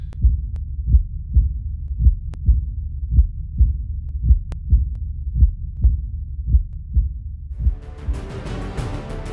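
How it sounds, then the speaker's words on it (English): Heartbeat sound effect set in the Kabini jungle during the monsoon, a loud, steady double-thump pulse repeating about every half second, with a brief noisy wash rising near the end. "Just heartbeats."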